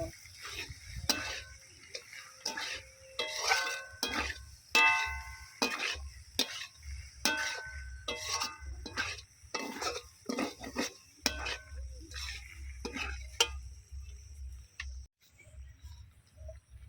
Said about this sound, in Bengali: আর দেব সয়া সস আবারও সব কিছু ভালো করে মিশিয়ে নেব